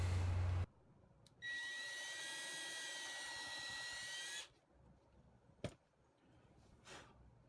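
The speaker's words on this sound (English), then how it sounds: "And then I'm going to pre-drill and drive my screws." Cordless power drill pre-drilling and driving screws into a wooden cooler deck box, one steady whining burst of about three seconds, close and fairly loud, then a short tap and quiet workshop noise.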